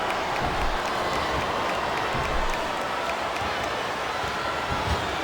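A wrestling arena crowd at WWE Backlash 2006 roars steadily, with scattered cheers and clapping forming a dense, continuous wash of noise.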